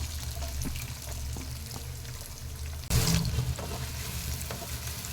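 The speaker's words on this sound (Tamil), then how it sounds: "வெங்காயத்தை லைட்டாக வதக்கி விட்டுக்கலாங்க." Chopped onions frying in hot oil in a kadai for chenna masala, a steady close sizzle that jumps louder partway through as the pan is stirred, with no talking.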